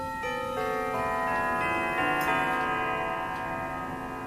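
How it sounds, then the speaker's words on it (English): A clock chimes close by with sustained, ringing tones, the notes layering and fading in a steady, resonant sequence, with an ice cream truck approaching on the road. "clock is just ringing right next to me"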